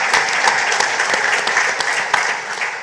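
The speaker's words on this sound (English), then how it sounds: "give yourselves a round of applause again for being here and supporting this" An audience at a cultural and creative industry event in Grenada applauds, a dense, steady wash of many hands clapping at once, close and loud, with no talking over it.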